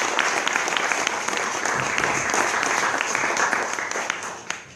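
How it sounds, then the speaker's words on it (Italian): Applause from an audience at a book presentation in a regional council hall, a dense, even round of clapping that holds steady and fades slightly at the close. "Credo che un applauso"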